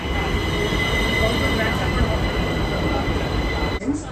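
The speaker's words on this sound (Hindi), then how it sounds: "तो हम लोग आ गए मेट्रो स्टेशन अभी।" A metro train at a Delhi metro station produces a loud, steady rumble of wheels and carriages that fills the platform, with a faint squeal on top, then the noise breaks off near the end.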